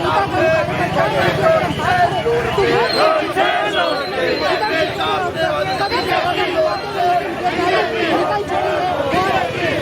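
Large crowd at a BJP farmer protection march rally in Siliguri, a dense continuous babble of many voices and shouts filling the scene, loud and close, with a reporter's voice talking over it.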